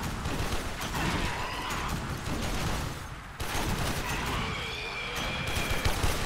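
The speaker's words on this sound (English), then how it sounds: "Let's see if I can just shoot someone." Gunfire in the sci-fi shooter game Warframe comes as dense, continuous bursts of loud weapon fire, with a brief gap partway through. It sounds cluttered and busy, with mechanical whirs layered underneath.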